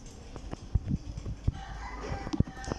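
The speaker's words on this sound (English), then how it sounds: "Please go away, chickens." Chickens in the block-building game Minecraft cluck in short, scattered bursts with small thumps between them, close by and moderately loud, with no voices.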